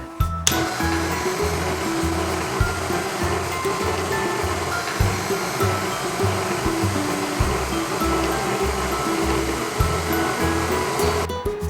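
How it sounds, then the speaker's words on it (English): A stand mixer with a dough hook kneads tang zhong milk bread dough, its motor humming steadily and loudly while soft rhythmic thumps repeat as the dough turns in the bowl. "So we're gonna let this mix for about 5 minutes or so"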